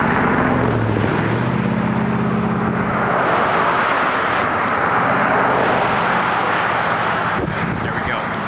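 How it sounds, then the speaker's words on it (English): A whole convoy of vehicles rolls past outdoors, a loud steady roar of engines and tyres with wind buffeting the microphone, sustained for several seconds, with someone talking over it. "Whole convoy of vehicles coming through right now."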